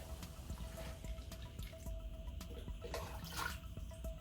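Root-growth solution, mixed in advance, is poured generously over prayer plant cuttings: a steady broadband watery splash and trickle running the whole time, close and fairly quiet, with no talk.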